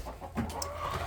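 Hens cluck softly nearby, a few short low calls over faint background noise.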